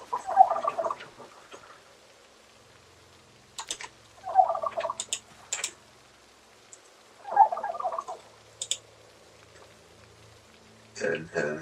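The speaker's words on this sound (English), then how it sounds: "Do we have ourselves any chickens left?" Chickens in the Project Zomboid video game give short clucking bursts at regular intervals, three spaced calls with faint clicks and brief noise between them, no voices present.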